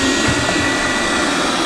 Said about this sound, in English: the Google Assistant has enabled the vacuum to go